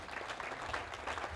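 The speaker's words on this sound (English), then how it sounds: "huge round of applause" Audience at a boxcar installation ceremony applauding, a brief burst of dense, steady clapping from many hands, moderately loud and unbroken.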